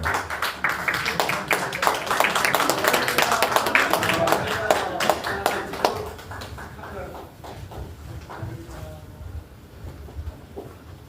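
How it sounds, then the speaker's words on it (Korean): A political party members' rally audience claps in congratulation, with sharp, distinct claps from a crowd building to a lively peak, then gradually thinning into scattered claps, with some voices underneath. "큰 축하의 박수 부탁드리겠습니다."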